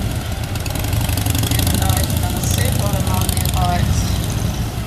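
Several motorcycles ride slowly in formation up the centre of a display, their engines holding a steady low rumble at close range throughout, with faint voices in the background.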